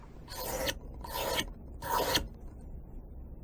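A knife blade rasps against a sharpening stone in three long, loud strokes, each a gritty scraping sweep with short pauses between, heard up close with no talking.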